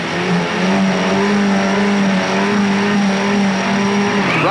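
1985 Formula Ford open-wheel race car engines roar loudly and steadily at a race start, several cars droning together as they pull away, pitch climbing slightly with a brief rising whine at the end.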